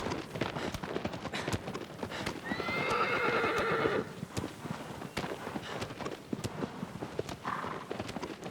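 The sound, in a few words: horse galloping and neighing in Shadow of the Colossus video game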